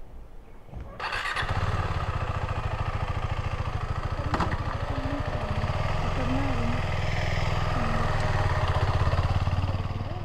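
A KTM 390 Adventure motorcycle cranks briefly, fires up and settles into a steady, throbbing single-cylinder idle close by, with people talking faintly over the running engine.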